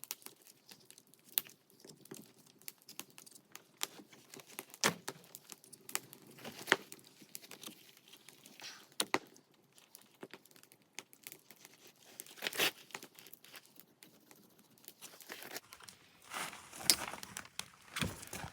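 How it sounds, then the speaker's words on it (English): A Leatherman serrated blade saws and tears at a rubber grip on a 2024 Yamaha Grizzly Special Edition, giving irregular close crinkly scraping bursts separated by quiet gaps, faint overall, with no talking. "A serrated blade on a Leatherman. And then I just start cutting up the grip."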